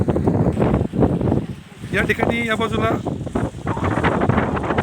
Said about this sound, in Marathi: पाहू शकता या ठिकाणी बघा किती जोरजोरात लाटा येतात